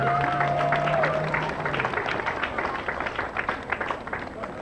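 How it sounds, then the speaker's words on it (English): Parade crowd outdoors applauds the event committee; scattered, moderately distant clapping builds after a fading tone and carries on as an uneven patter, with some voices mixed in. "Big round of applause for the committee."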